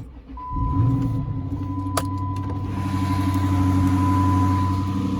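A parked car's engine cranks and catches after sitting unused for a long time, then settles into a steady idle with a constant hum and a high whine, loud and close.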